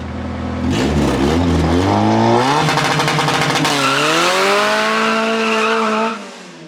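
A loud Infiniti G35 with an ISR exhaust revs hard and climbs in pitch through several gear changes, close by, then cuts off abruptly near the end.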